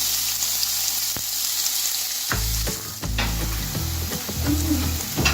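Loud sizzling and crackling as a chopped medium onion hits hot ghee, with a few clinks and stirring scrapes, close by.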